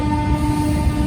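The Gorakhpur Sabarmati Express passes a railway station, a loud, steady rumble of rolling wheels and carriages close by, with a sustained tonal hum over the low roar and no voices.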